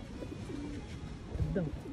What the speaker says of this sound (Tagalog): ito yung ibon ni Kuya Nino.